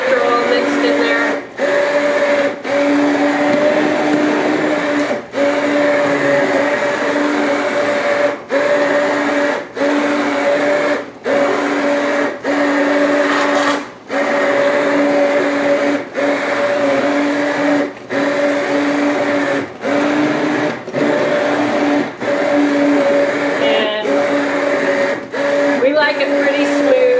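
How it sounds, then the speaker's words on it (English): A blender whirs steadily, processing salsa of peppers and cilantro, a continuous motor hum with sharp brief dips throughout, loud and close, with no talking over it. "You can see that it's getting really blended up."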